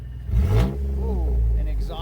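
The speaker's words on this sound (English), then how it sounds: "a little bit of engine noise up front. No knocking, just a little kind of squeal." A Jeep engine runs just after starting at a dealer auction, with a check engine light on, giving a brief rev and then a steady mid-pitched hum with a slight whine and a little noise up front.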